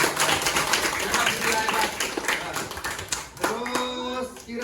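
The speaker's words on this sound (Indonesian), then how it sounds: "berikan tepuk tangan dulu" Applause in a classroom lesson: a group claps steadily in a dense, busy patter of hand claps that runs throughout, mixed with voices chanting and cheering.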